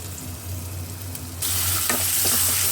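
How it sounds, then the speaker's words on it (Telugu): Tomatoes frying and being stirred in a pan, a steady sizzle that suddenly swells louder partway through, with a few scraping stirs, close and without talk. "టమోటో వేసి కలపాలి."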